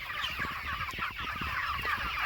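Meat chickens cluck steadily in a farm yard in the morning, a dense flock of overlapping clucks and squawks close by, continuous throughout with no talk.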